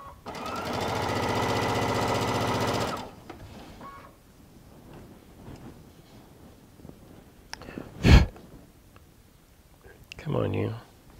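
A sewing machine runs for about three seconds, a close, loud, rapid stitching chatter as quilt pieces feed through, then stops, followed by clicks, handling noise and a short spoken phrase.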